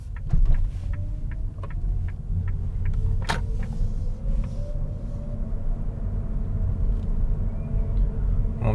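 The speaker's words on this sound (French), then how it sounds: "Mon thermique vient de se mettre en route pour chauffer." Inside a Toyota Auris Touring Sports hybrid, the petrol engine starts to warm up, a low steady rumble and hum with a faint rising whine and a few light clicks, constant and close.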